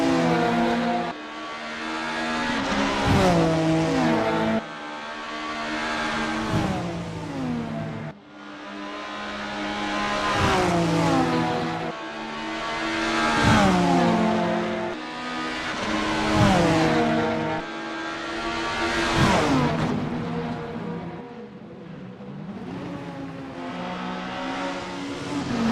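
A 1990s BTCC super tourer race car laps Autodromo Buenos Aires Circuit No. 8 in a racing game. Its engine screams up through the gears again and again, with sharp drops at each shift, loud and continuous.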